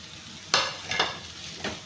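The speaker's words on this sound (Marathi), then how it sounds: "चांगली हलवून घ्या, मिक्स करून घ्या।" Sabudana khichdi being stirred in a pan, with three distinct scraping strokes of a spoon over a soft background sizzle, close and fairly quiet.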